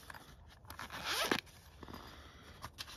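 A zipper on a CMB knife pouch is pulled open in one quick rasping stroke, close and fairly loud, followed by faint handling rustles in a quiet room.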